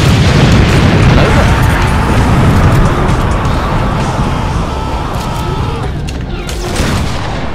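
A tactical nuke detonates in a video game with a loud, sustained booming roar and crackling burst that rumbles on and slowly fades, with voices heard faintly over it.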